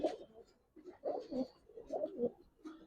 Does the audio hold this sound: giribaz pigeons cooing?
yes